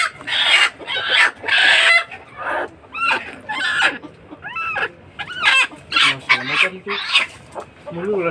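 Chickens clucking and squawking close by during a weekly poultry health check, loud repeated bursts of cackling and agitated calls in quick succession, with someone talking intermittently among them.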